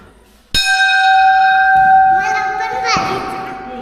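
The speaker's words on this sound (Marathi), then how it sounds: "घंटा वाजल्या." A temple bell rings out with a sharp strike and a long, bright ringing tone, struck again near the end, with children's voices in the background.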